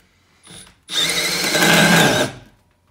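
A Milwaukee M12 1/2 inch hammer drill/driver spins a hole dozer saw through material, with a brief short whir followed by a loud, close grinding cut lasting about a second and a half, then stopping.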